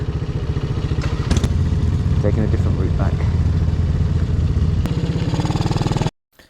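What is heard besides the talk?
motorcycle riding home from a rally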